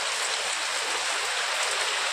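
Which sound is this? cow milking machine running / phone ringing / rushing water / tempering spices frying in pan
rushing water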